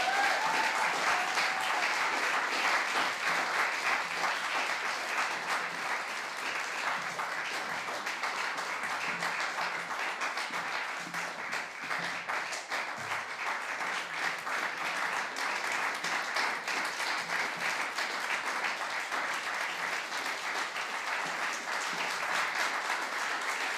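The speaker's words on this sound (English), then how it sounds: "come out, get some applause" Audience at a school music event applauds loudly and steadily throughout, dense clapping from many people filling the hall.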